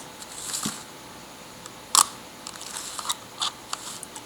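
At 1/40 second, a Leica IIIa and a Zorki 1 rangefinder are each fired, giving several close shutter clicks: one sharp, louder snap near the middle among softer clicks and mechanical ticks, with no voices.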